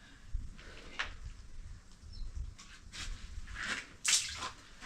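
Water splashes and trickles into a container in uneven spurts, close by, with soft drips between the louder pours.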